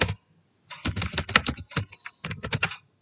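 Bursts of computer keyboard typing while Python code is written, rapid clustered keystrokes close up with short pauses between runs and no voice.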